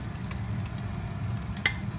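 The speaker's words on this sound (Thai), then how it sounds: "นี่ค่ะ ใส่น้ำปลาลงไป" Khi lek curry simmers in a pot as fish sauce goes in, giving a steady close bubbling hiss with a few small clicks and splashes.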